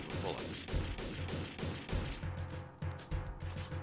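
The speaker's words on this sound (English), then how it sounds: "I am in fact holding it down and going through a stream of bullets" Rapid automatic fire from a P2K pistol in a video game, a continuous dense stream of shots with the trigger held down, loud and close throughout.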